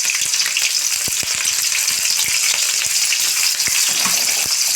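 Curry leaves and green chillies frying in hot oil for semiya upma, giving a loud, dense, continuous sizzle with scattered small pops throughout and no voices.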